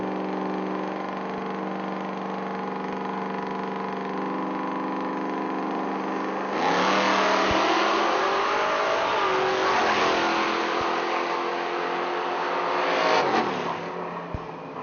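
A Camaro and a Mustang line up at a footbrake drag race. Engines rumble at a steady idle, then both cars launch with a sudden loud roar of revving engines that rises and fades as they pull away.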